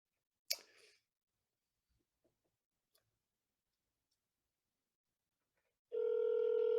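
A phone call placed to a governor's Springfield office: a few faint clicks in near silence, then a loud, steady electronic ringing tone that begins near the end and continues.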